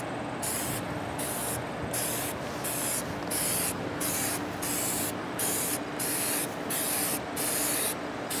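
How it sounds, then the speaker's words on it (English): A spray paint can sprays paint onto crutches in short rhythmic bursts, about a dozen close hissing puffs with brief gaps over a steady background hiss. "You always want to test your spray paint out, too. Make sure it's spraying good"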